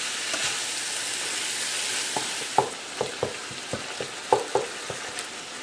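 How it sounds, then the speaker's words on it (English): Lean ground beef fries in a pan, giving a steady soft sizzle, while a utensil stirs and scrapes through it in a series of distinct, irregular knocks and scrapes that grow more frequent. "this is lean ground beef, so we're just going to stir it around here and try to get it going"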